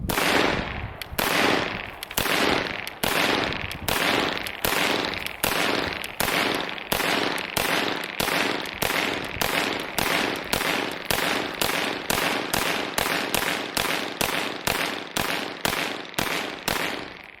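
Rapid string of loud, sharp gunshots from a CZ Scorpion Evo 9mm carbine firing 9mm Perfecta rounds, about 28 evenly spaced cracks in a steady semi-auto rhythm, close and alone with no talking.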